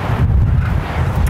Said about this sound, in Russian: жуткий ветер, просто жуткий ветер, он пронизывающий здесь.